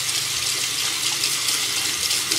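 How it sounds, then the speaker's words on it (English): Hot water runs from a tap for a baby's bath, a steady, loud, close rushing stream that continues evenly throughout with no pauses. "Hot water."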